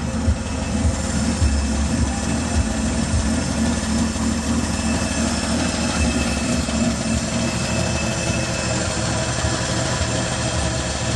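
A 1965 Chevy short-bed pickup running on five-year-old gasoline idles steadily for about eleven seconds, a close, even, low rumbling drone with a fine rhythmic engine pulse and no talk.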